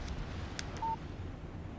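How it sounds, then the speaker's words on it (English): A single short electronic phone alert for an incoming text message in the video game Alan Wake, one brief clean tone standing out over a low ambient bed with no talking. "Text message from Barry."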